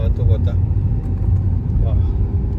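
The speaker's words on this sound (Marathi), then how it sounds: "आणि हे आता सगळे ट्रक सुरू झाले आहेत" Trucks grinding up the Bhuibawda ghat road, a steady low engine rumble close by that fills the whole stretch, with a voice talking over it.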